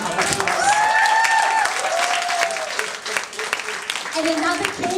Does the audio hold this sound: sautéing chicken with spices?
no